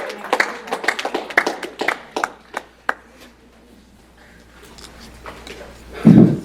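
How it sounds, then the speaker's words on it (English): A law school class applauds in a lecture room, a burst of scattered claps that thins out into a few isolated ones, with a brief voice near the end. "Give yourself a round of applause"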